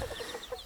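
Chickens and small chicks cluck softly in a quick run of short calls on a homestead, close and gentle over a low background murmur.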